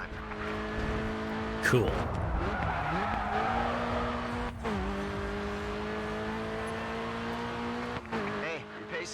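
A race car engine drones loudly with steady tonal revving, tires squealing and skidding through corners in the racing video game GRID 2. A voice briefly speaks over it.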